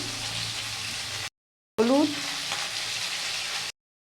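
Fish fries in hot oil in a pan with salt for a Bengali fish curry, giving a steady close sizzle and crackle with a brief break and some stirring sounds.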